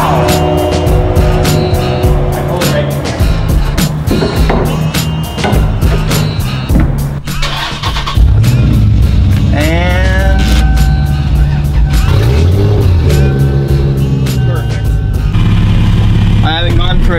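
A Lexus with a 1JZ engine turns over and is revved hard several times, the pitch climbing and dropping in loud surges, with voices talking over it.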